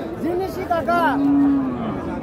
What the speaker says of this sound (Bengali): এই দেখেন, লাল রঙের একটা গরু, জার্সি ক্রস।